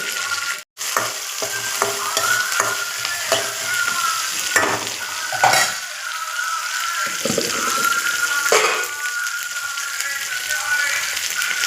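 Chillies, onions and garlic fry in a pan for pumpkin charu, a steady loud sizzle broken by a few stirring scrapes and clinks, with a brief watery splash near the start.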